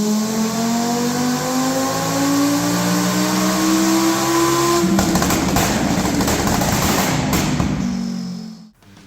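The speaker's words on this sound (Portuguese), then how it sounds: "O ronco dos 5 cilindros da Fiat tinha uma assinatura única," A Fiat Marea's five-cylinder engine revs loudly and nearby, its metallic note climbing smoothly, then turning coarse and full at high revs before cutting off abruptly near the end.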